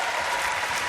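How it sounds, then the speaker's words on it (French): Audience applause in the studio of a French TV variety show, a dense, even wash of many hands clapping at once, loud and continuous throughout. "Applaudissements pour elle."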